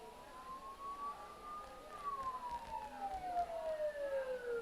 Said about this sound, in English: Don't those sirens sound really close?